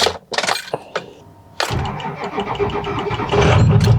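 A Ford 6.0L Powerstroke diesel truck engine cranking with a few loud clattering turns, then catching and settling into a rough, rumbling idle close by.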